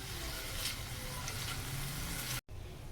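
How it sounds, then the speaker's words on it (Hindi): Chicken with spices frying in a pan for a chicken sandwich filling, a loud crackling sizzle with stirring scrapes, briefly cutting out near the end before resuming more quietly. "अच्छी तरह हमने भून लेना है ताकि जो हमारे मसाले हैं वो भी भुन जाएं"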